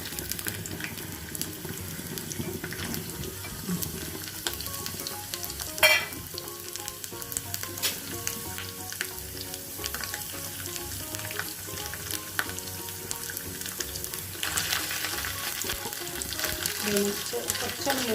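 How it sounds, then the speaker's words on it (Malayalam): Pieces of coconut fry in hot oil for a chicken fry, giving a steady, close sizzle that runs the whole time with an occasional clink of stirring and a brief clatter partway through. "എണ്ണ ചൂടായി വന്നിട്ടുണ്ട്. നമുക്ക് ഈ തേങ്ങാക്കൊത്തിടാം."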